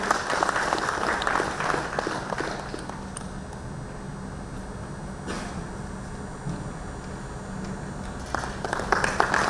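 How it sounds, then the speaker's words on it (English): An audience at a Mining Engineers' Association of India seminar gives a sustained round of applause, a dense, steady clapping that fills the room throughout. "May we expect a huge round of applause for both the dignitaries and the house everyone comes."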